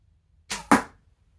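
Arrow loosed from a yew selfbow: a soft whoosh followed a split second later by a sharp strike against aluminium, two quick close sounds in otherwise quiet surroundings.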